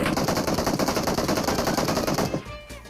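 Rapid, loud automatic gunfire from a PUBG Mobile match, a dense steady burst of shots that runs for over two seconds before cutting off into a quieter tail.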